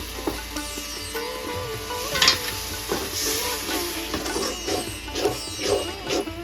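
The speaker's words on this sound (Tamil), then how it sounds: "இது நல்லா எண்ணெய் வதங்கிறதுக்காக கொஞ்சமாக தண்ணி விட்டு நல்லா வதங்கிட்டோம்" Brinjal curry masala in oil with a splash of water bubbles and sizzles gently in a pan as it is sautéed, with soft stirring scrapes and small pops, close and fairly quiet.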